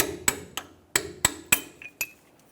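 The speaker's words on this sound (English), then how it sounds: "Now that we have it half out, I'm going to use a punch. Give it a few taps" A metal punch is struck against a rust-welded snap ring on a 2014-2018 Chevrolet Silverado 1500 lower ball joint, giving about seven sharp, ringing metallic taps at uneven intervals, close and clear.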